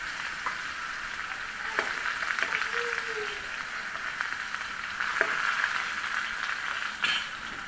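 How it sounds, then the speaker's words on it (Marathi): Garlic and green chili frying in hot oil, a continuous bright sizzle with occasional scrapes and stirring knocks of a utensil in the pan. "मिरची थोडी परतली की त्यामध्ये लसूण टाकूयात।"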